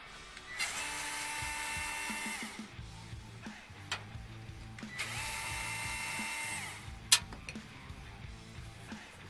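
A powered screwdriver whines in two long bursts while unscrewing the rear expansion slot covers of a PC case for a graphics card install, with small metallic clicks and handling noise between.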